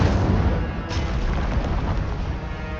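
Incendio fire spell cast in Hogwarts Legacy, a dense roaring burst of fire that swells and rumbles continuously for a few seconds, loud and close.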